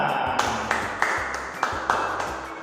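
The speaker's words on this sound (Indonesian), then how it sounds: "Beri tepuk tangan untuk kita semua." A classroom of fifth-grade children claps together in several sharp, bright bursts of hand-clapping, fairly close, with a steady background wash between the claps.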